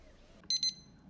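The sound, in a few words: smoker thermometer alarm beeping as temperature climbs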